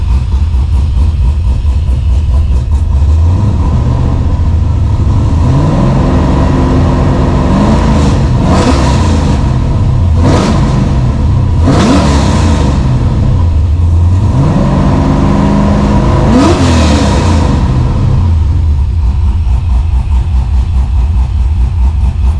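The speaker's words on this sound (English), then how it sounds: "just giving the throttle a stab in neutral" Holden VL Calais engine fitted with a Harrop 2300 supercharger, revved hard twice in neutral, climbing from a steady loud idle to sharp rising blips and settling back, with no talking.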